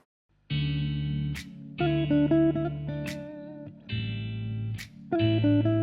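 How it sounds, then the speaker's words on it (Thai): An Ibanez AZES31 electric guitar run through a Boss OD3 overdrive pedal into a Twin Reverb amp, miked with an MXL DX2, plays four sustained distorted chords one after another, each held about a second with a brief pick scrape between, loud and close. "ก็กีตาร์วิ่งเข้าตัว Effect Boss OD3 แล้วก็เข้าตู้แอมทวินรีเวิร์บแล้วก็จ่อด้วยไมค์ MXL DX2 ครับ"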